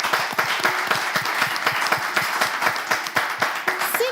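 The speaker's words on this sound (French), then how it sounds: "On applaudit notre candidate." An audience claps in a steady, rhythmic beat for a 12-year-old schoolgirl candidate, with sharp, evenly spaced claps carrying a lively pace throughout.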